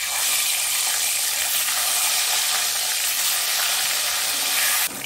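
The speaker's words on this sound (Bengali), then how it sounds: "ডিমটা বেশ লাল লাল করে ভাজা হয়ে গেছে" Eggs frying in hot oil seasoned with salt and turmeric give a loud, steady, close sizzle that runs unbroken before cutting off abruptly near the end.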